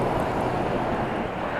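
Air Canada flight 826, an airliner departing Toronto Pearson for Brussels, makes a constant loud jet roar with wind-buffeted rumble, heard alone for a short moment.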